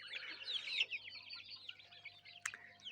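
Several chickens and chicks cluck and chatter nearby in a quick, busy run of calls, followed by a short sharp squawk, with faint background hum.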